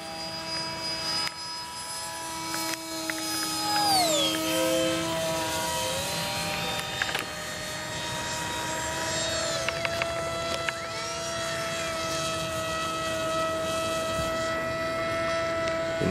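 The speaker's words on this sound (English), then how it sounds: "That's Ruman flying around just above him." A Bixler RC model airplane flies around overhead, its electric motor giving a steady droning whine that rises and falls in pitch as it banks and passes, heard continuously throughout at moderate distance.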